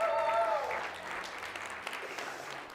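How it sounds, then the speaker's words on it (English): A round of applause from an audience, moderately distant and fairly soft, tapering off over a few seconds as a faint voice sounds briefly at the start. "Round of applause for everybody, please."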